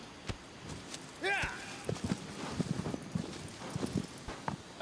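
Horse hooves in Shadow of the Colossus clip-clop in a steady, quiet rhythm of soft thuds, with a brief whinny-like call near the start and a voice talking over it.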